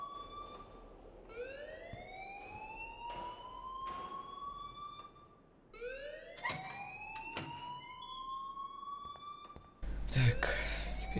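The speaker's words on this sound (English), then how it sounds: "please turn off that alarm since that's your job" An alarm rings in the video game Life is Strange as a series of rising, whooping siren-like sweeps, repeated at a steady pace, then cut off by a louder burst of noise near the end.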